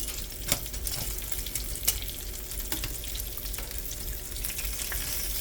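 Trout frying in a pan until crispy, a steady close sizzle with scattered pops and crackles and a few sharper ticks, continuous throughout with no talking.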